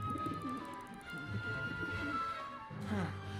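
A pigeon coos in the French-language adventure game Syberia The World Before, repeated soft coos surfacing through game music and other voices, steady and fairly close.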